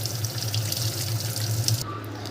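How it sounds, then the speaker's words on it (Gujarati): Water runs quietly from a tap as fresh fenugreek leaves are rinsed in a kitchen, a soft, steady splash over a low hum that cuts off near the end. "આપણે મેથીને થોડી પાણીથી સાફ કરી લઈએ."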